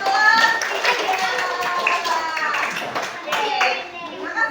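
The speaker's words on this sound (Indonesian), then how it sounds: "Oke, tepuk tangan untuk kelas 3." Schoolchildren in a classroom applaud together, a burst of dense, uneven clapping with children's voices mixed in.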